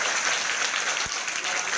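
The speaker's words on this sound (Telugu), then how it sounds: "గట్టి క్లాప్స్ కొట్టండి" A school gathering in Narasaropet bursts into loud applause for an honoured guest, a brief, dense burst of clapping from a crowd.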